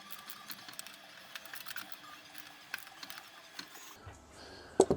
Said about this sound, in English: do up the pinch bolts to hold this still while we get the torque wrench on there